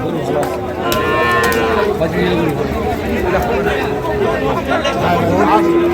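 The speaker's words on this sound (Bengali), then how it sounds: "এই যে গরুটা ঢুকানো হচ্ছে" Cattle at a livestock market low and moo several times, close by, over a steady background of crowd chatter and talking voices.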